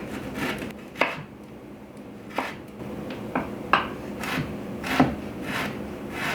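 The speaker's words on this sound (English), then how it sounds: "I just give it a really fine chop" Frozen ginger finely chopped with a knife on a wooden board, a series of crisp, irregular knocks and blade taps, close and clear, with softer rubbing between strikes.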